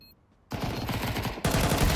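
Gunfire in the video game Counter-Strike 2 during a bomb round: after a short quiet moment, loud rapid bursts of automatic fire rattle continuously at close range and grow louder toward the end.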